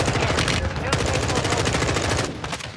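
Rapid automatic gunfire from Warzone 2.0, loud and close, firing in dense continuous bursts with two brief pauses.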